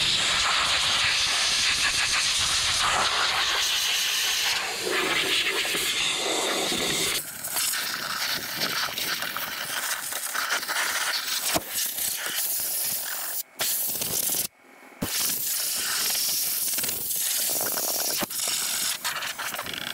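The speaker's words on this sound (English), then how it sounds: "Gonna give that a blowout quickly with the air compressor." An air compressor nozzle blasting out the cooler of a John Deere 6310 tractor, a loud sustained hiss of air with a few brief breaks and gaps partway through.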